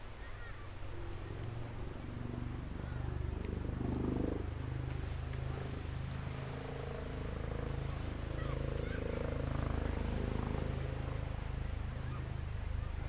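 Display aircraft flying a wing over at the English Riviera Airshow: a distant, low, steady engine drone that swells slightly and fades, quiet and continuous throughout.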